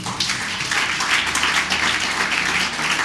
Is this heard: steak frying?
no